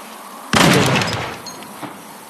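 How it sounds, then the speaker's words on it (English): A gunshot fires at zombies in the VR game Arizona Sunshine: a single loud blast that trails off, followed by a faint click. "Gonna shoot some zombies from here."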